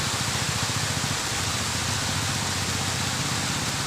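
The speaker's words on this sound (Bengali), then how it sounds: "তো দেখো বিকাল হয়ে গেছে, এখনো পর্যন্ত বৃষ্টি হচ্ছে।" Steady afternoon rain falling outside after a sudden downpour under heavy cloud, a continuous even hiss of drops that stays constant and fairly loud throughout, with no voices.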